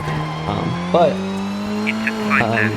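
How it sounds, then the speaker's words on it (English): A rally car in Colin McRae Rally 2.0 revs and shifts, its engine tone climbing and dropping with tire squeals, loud and near, while a voice talks over it. "we're gonna be hearing a lot of the car revving up and everything."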